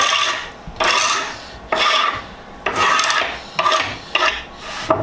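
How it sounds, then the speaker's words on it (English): A hand scraper rasps dried glue points off wooden raised-panel door stock, five or six broadband strokes in a steady rhythm, close and fairly loud, with no talking. "Took my scrape here and I knocked off some of the points of glue that are sticking up"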